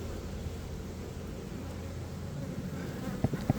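Honey bees lifting off a hive frame with a dense, close buzzing hum that carries on unbroken, plus a few faint knocks near the end.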